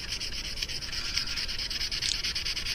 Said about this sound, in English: Just by sanding it.